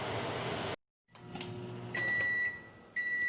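A microwave oven softening butter for chocolate chip cookies hums steadily before going quiet, then resumes with a faint whir and a series of short, thin electronic beeps.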